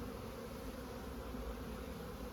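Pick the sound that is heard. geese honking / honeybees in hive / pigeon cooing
honeybees in hive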